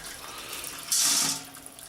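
Homebrew wort running out into a collection vessel, a soft steady liquid trickle that swells into a brief louder splashing gush before easing off again, heard alone and close.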